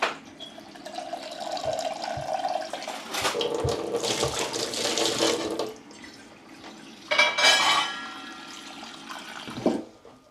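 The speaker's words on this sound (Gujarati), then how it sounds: "હવે એમાં પાણી નાખવાનું છે।" Cold water pours and splashes close by into a bowl in uneven bursts for several seconds, easing off briefly before a second strong gush near the end.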